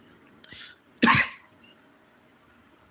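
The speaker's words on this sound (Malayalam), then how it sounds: "തൊണ്ട പോയി സോറി ചുമ വന്നിട്ടേ" Someone nearby gives a small throaty cough, then one harsh, louder cough, in an otherwise quiet room.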